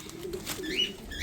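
Cooing of a pigeon, the offspring of a prized racing bird, kept in a loft among other paired birds; a soft low coo runs under faint chirps and background noise, close and fairly quiet.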